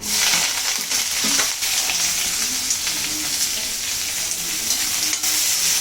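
Curry leaves and onion sizzle in hot oil for a fish gravy, a dense, steady hiss and crackle held close and loud for the whole stretch, with a few light stirring knocks.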